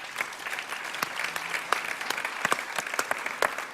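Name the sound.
audience applause for a panel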